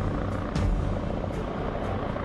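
Helicopter rotor and engine drone at a landing pad, a steady, moderately loud whir that holds evenly throughout with a few brief higher swishes on top.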